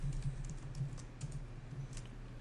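Computer keyboard typing while entering code for a CodeIgniter user controller, a soft, steady run of light key clicks with small bursts, fairly quiet and close, with no voices.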